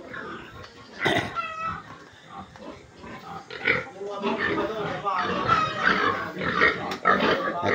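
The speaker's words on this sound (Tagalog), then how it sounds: "Video natin yung mga baboy." Pigs in a piggery grunting and squealing repeatedly, close by, amid scattered farm noise and overlapping people talking.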